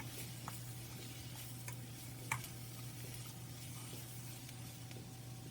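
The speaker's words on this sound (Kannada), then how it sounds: "ಹಸಿ ವಾಸನೆ ಎಲ್ಲ ಹೋಗೋ ಮಟ್ಟ ಹುರ್ಕೋಬೇಕು ಉಳ್ಳಾಗಡ್ಡಿ" Onions fry in a pan with a low steady sizzle while they are stirred now and then, a faint scrape or clink here and there, heard up close and quiet.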